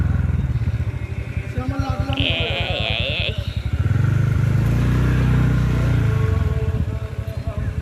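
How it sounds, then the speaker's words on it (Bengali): A motorbike travels along a quiet rural road lined with bamboo, its engine droning steadily and growing louder and closer partway through, with a sheep-like bleat briefly heard early on. "না এখানে বাইক আছে গো, আমরা একা নই"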